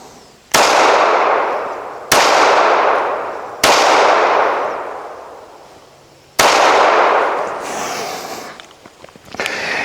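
Four loud, close pistol shots from a Springfield Armory TRP CC .45 ACP 1911, fired at an outdoor target range, spaced a second or more apart with a longer gap before the last, each followed by a decaying echo.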